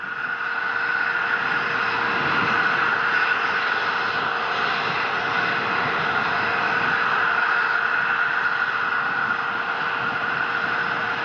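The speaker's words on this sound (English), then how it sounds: "First stage engines are continuing to fire" The first stage engines of the HTV-9 supply rocket burning during launch, heard as a steady, distant broadband roar with no breaks, droning evenly throughout.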